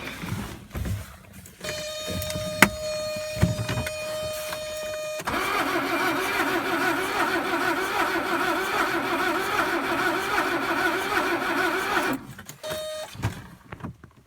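A 1979 Mercedes 300D W123 diesel cranks in an attempted startup: a starter whirs in a steady drone for about seven seconds, with clicks and shorter whirring bursts before and after, and the engine does not catch.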